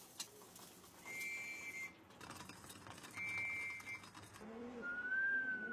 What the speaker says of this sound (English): the whistle, signaling it's time to return home where plenty of food awaits.